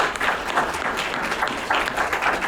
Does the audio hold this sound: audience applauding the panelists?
yes